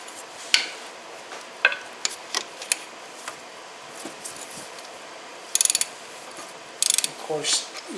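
A ratchet tightens the oil drain bolt on a 2005 Honda Metropolitan CHF50 scooter. Quiet, sparse clicks are followed by two short bursts of rapid ratcheting close by.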